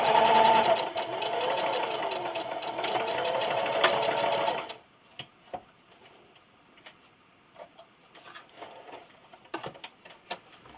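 Sewing machine stitching a hanging towel and then backstitching: a steady mechanical whirring run of several seconds that stops abruptly, followed by faint scattered clicks and handling noises.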